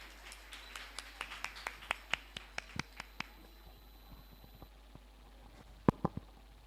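Sparse, light clapping from a small audience at a Nurses Day celebration, a run of evenly spaced individual claps that thins out, then a few louder claps near the end, faint and slightly distant.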